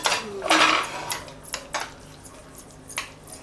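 Moong dal batter mixed with onion and green chilli is stirred briskly in a bowl, with repeated close scraping and clinking of a utensil against the side in an uneven rhythm.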